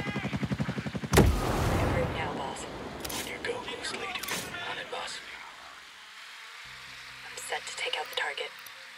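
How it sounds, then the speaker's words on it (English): Gunfire at night in the tactical shooter Ghost Recon Breakpoint: a rapid burst of automatic fire opens, then a loud shot, then scattered sharper reports over a dull background rumble, with voices talking quietly beneath. "Shooting."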